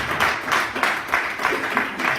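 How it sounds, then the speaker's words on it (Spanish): A church congregation claps along in a steady, rhythmic pattern of repeated bursts, moderately loud and filling the room, with no talk over it. "Dele palmas al Señor"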